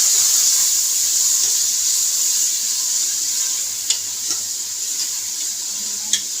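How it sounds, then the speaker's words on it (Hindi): Steady, bright sizzling of tomatoes frying with garlic-ginger paste in a hot pan, with occasional soft clinks of a utensil stirring. "तो साथ ही मैं डाल देती हूँ टमाटर। इनको अच्छे से फ्राई कर लूँगी।"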